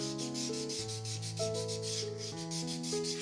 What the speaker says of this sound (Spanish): la marquetería se tiene que lijar mucho